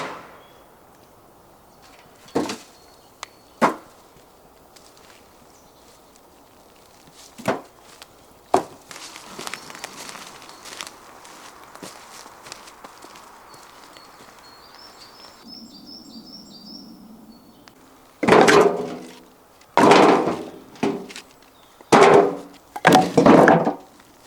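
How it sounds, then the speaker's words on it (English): Cut timber pieces from a battery chainsaw job being gathered outdoors: irregular woody knocks and clunks as logs are tossed together, with a louder cluster of heavy thuds near the end and faint birdsong in the background. "So I'll collect all this timber together"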